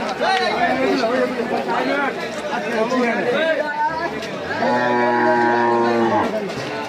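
Cattle at a busy Eid cow market in Deora, Barura, Comilla. One animal gives a long, loud, close moo amid constant crowd chatter and voices.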